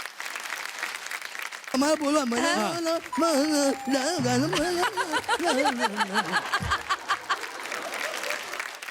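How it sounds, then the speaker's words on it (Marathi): An audience at a televised Marathi stage show breaks into clapping that patters on for several seconds, starting under a loud voice and music and carrying on as they fade. "ज्यासाठी मला असं वाटतंय जोरदार टाळ्या झाल्याच पाहिजे"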